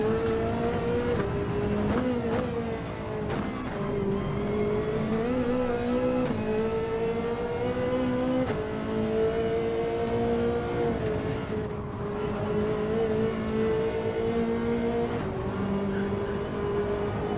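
Ferrari race car engine in Gran Turismo 7 on the Nurburgring, droning loud and continuous as it revs and shifts through gears, pitch rising and falling with brief dips between changes.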